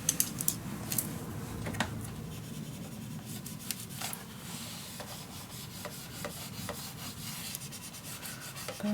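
Paper on a handmade steampunk Christmas mini album is burnished down by rubbing, a steady close scraping and rasping texture with a few sharper ticks, continuous and without speech.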